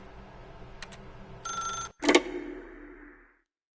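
A telephone in The Stanley Parable video game rings in short electronic bursts, a couple of quick chirps followed by longer trilling rings that fade away, close and clear with no talk.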